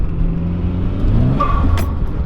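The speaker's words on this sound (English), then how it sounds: "That's the clutch. It won't even hook up at all." A Mitsubishi Lancer Evolution IX engine revs steadily with a flaring, slipping whine from a worn clutch that will not engage, close and loud, for a brief moment.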